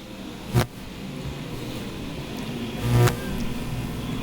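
Stock car engines drone from a dirt track at a USRA A and B modified nationals main, a steady mid-distance roar with two brief louder swells as cars pass.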